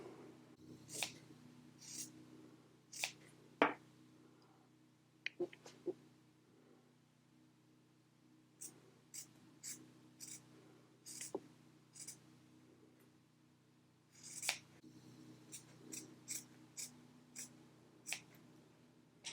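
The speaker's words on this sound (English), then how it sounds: "slide your scissors back up a little bit if necessary, push the fur out of the way, and just snip into this fabric backing" Scissors snip into the fabric backing of faux fur in a series of short, sharp, irregularly spaced cuts, close and crisp over a quiet room, with no talk.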